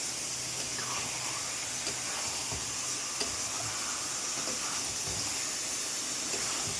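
Fried potatoes stir-fried with meat in a pan in a home kitchen, a soft steady sizzle and hiss with scattered stirring clatters, moderately close and unbroken by speech.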